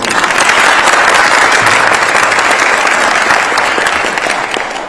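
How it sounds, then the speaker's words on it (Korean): Dense, sustained applause from a large crowd welcoming the national Winter Olympic team, loud and steady, slowly tapering toward the end. "큰 박수로."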